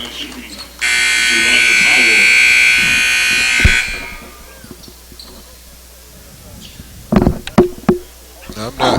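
A loud, sustained electronic buzzer sounds for about three seconds during a 2008 high school basketball game between the Dothan Raiders and BCI Edge, followed by gym noise with scattered thumps and knocks.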